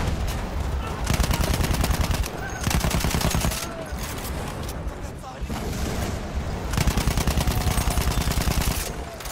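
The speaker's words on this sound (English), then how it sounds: "There's an enemy machine gun!" Enemy machine gun fire in a combat video game rattles in long, loud sustained bursts broken by short pauses, with gunfire dominating the scene and voices heard in between.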